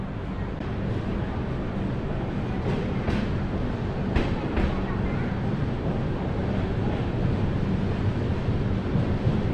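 Sanghamitra Express running just after departing Ongole, heading nonstop toward Vijayawada: a steady, loud, continuous rumble of the moving train with rail clatter and broad rushing noise throughout, no distinct breaks.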